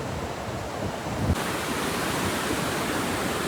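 Broad, steady roar of rushing river water heard from midstream in the Bhima river, loud and continuous with no pauses.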